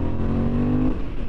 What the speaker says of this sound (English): that exhaust has got a bit of a rumble to it as well